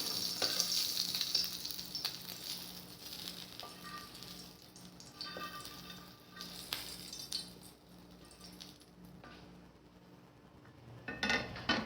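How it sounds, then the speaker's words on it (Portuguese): Pieces of tripe sizzle quickly in a pan, flipped from one side to the other, with a steady frying hiss and a few light clinks of a utensil against the pan throughout. "Uma fritadinha rápida, de um lado, do outro"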